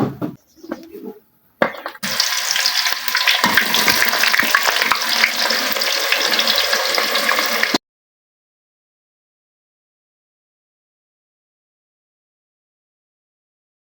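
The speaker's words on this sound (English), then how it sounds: "We can add the onions." Onions hit hot cooking oil for beef pilau, bursting into a loud, steady sizzle after a brief quieter start, holding strong for about six seconds before cutting off to silence.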